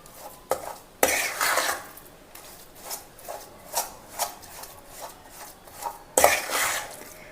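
A spoon stirs jaggery into a hot farali sukhadi mixture in a pan, making rhythmic scraping strokes against the metal, with a few sharper knocks, close up and without speech.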